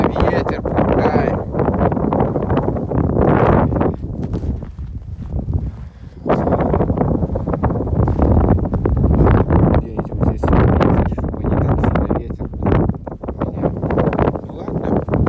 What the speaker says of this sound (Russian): Сегодня погода, ветер, пурга.